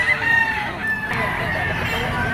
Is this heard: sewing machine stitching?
no